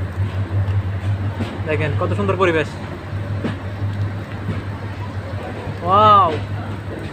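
A passenger train on the Kishoreganj Express run from Dhaka to Kishoreganj, just pulling out of Sararchar station, gives a steady low rumble and rolling noise throughout, with people talking over it.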